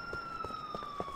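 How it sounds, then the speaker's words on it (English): A police car siren in Grand Theft Auto IV holds a steady, slightly falling wail at moderate distance, running continuously beneath soft rhythmic thuds of game noise. "I gotta find a police car. Isn't that convenient? I hear one."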